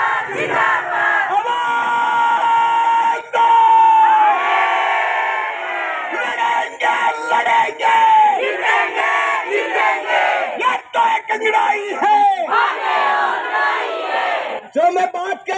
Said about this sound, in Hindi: नारा लाओ ऐसा जोर से पूरी आवाज आनी चाहिए।